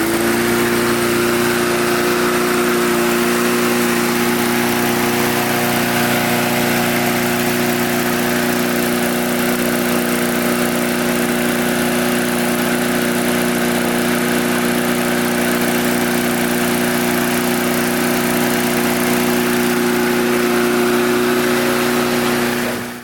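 A trash-picked walk-behind lawn mower's small engine runs steadily at a constant loud drone, close by and uninterrupted for over twenty seconds.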